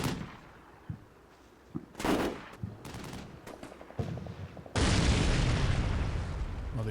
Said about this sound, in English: Popping some smoke just to cover from that exposed position.